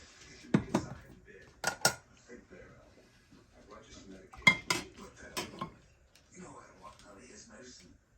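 Broth is ladled into a pot of Dungeness crab soup, with clinks of a metal ladle against the pot and soft pouring sounds in a few short bursts amid quiet kitchen background.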